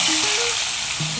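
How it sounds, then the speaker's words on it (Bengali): Cabbage hits a hot pan, giving a loud, dense, continuous sizzle at close range with no talk. "বাঁধাকপিটা দিয়ে দিচ্ছি"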